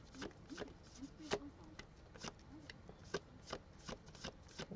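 Tarot cards being shuffled in quick, crisp riffling bursts, close and fairly quiet, with soft papery slaps between the flurries.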